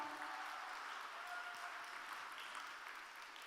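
Audience applause after Ahn Chi-hwan's stage performance at an autumn talk concert with poet Jeong Ho-seung, in Seoul; a steady, fairly faint wash of clapping that holds evenly for the whole stretch.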